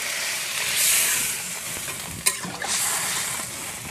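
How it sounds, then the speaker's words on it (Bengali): Water goes into a pan of sautéed taro curry, and a hissing sizzle swells up, eases, then returns, with a sharp knock of a utensil against the pan partway through; nearby and moderately loud, no talking. "কচুটা কষানো হয়ে গেছে, এবার দিয়ে দিচ্ছি জল।"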